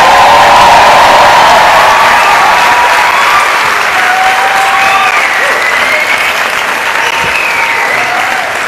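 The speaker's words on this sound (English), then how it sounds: "Hold your claps, you will have plenty to clap about today." Sustained applause from a large audience fills the hall at the 24th annual convocation of the Lahore University of Management Sciences in 2012, dense and steady throughout before easing off slightly toward the end.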